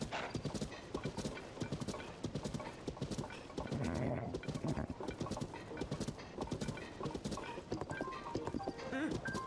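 Rapid clip-clopping horse hooves at a steady gallop in The Legend of Zelda: Tears of the Kingdom, loud and continuous, with a voice speaking briefly over the hoofbeats.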